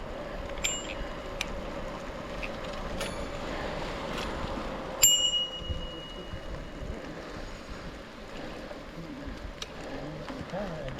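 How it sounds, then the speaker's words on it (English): On the Olympic Discovery Trail, a bicycle bell gives a few light dings and then one clearer ring midway, over soft riding and outdoor noise. "so I'm going to see if it's sound on the bell."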